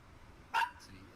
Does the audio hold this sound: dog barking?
yes